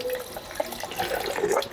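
Polymer clay decorated with acrylic paint pens held under a running tap, a steady splashing stream of faucet water hitting the piece and sink, close and continuous with no talk.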